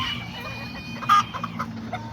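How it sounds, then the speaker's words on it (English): Backyard chickens and a small rooster cluck softly in a short burst amid steady background hum, with one louder squawk near the middle; no voices. "A little rooster right there."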